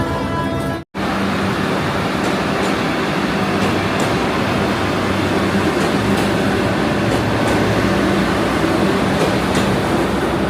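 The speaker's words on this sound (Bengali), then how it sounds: "বন্দে ভারত ট্রেনটি বোলপুর স্টেশন ছেড়ে চলে যাচ্ছে, এখন হাওড়ার দিকে যাবে।" A Vande Bharat train pulls out of Bolpur station heading for Howrah, a loud, steady rushing rumble of wheels and carriages that fills the whole stretch, with faint rhythmic clicks over the continuous roar and no voices.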